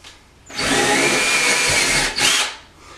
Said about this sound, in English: I'm just going to drill into the drywall